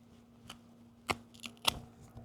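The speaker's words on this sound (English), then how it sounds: "Cut through it pretty clean." Sharp knife slicing through three-strand synthetic rope, heard as two crisp, quick cuts close by over a faint steady hum, with a softer scrape between them.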